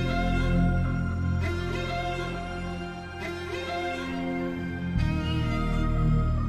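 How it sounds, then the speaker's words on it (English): A sustained synth pad, moved up an octave for a brighter high end, holds layered chords that change every second or two, smooth and fairly quiet with no voices. "I'm going to take the pad and I'm going to move it an octave up"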